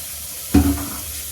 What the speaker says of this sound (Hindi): तेल कम है इसलिए हम थोड़ा सा इसमें पानी डालेंगे।